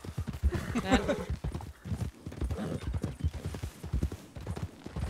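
Horse hooves clip-clop in a steady walking rhythm in a western video game, with two riders on one horse, while people talk over the hoofbeats.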